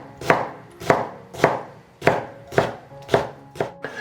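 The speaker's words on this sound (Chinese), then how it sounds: "酸菜洗干净了，我们给它切碎。" Knife chopping washed pickled mustard greens on a cutting board, seven crisp, evenly spaced chops with a short pause midway, close and clear with no talking.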